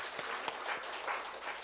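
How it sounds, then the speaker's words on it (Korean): A church congregation at a Sunday worship service claps to welcome new members, a dense, sustained round of applause with scattered sharper claps standing out. "우리 박수로 환영하겠습니다."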